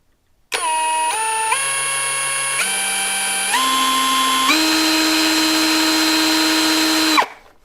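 A LYUOWO LW CZ20 cordless impact drill-driver whines steadily and climbs through about five distinct speed steps in turn, its pitch jumping higher at each step for roughly seven seconds before it spins down. It runs loud and close, with no talking.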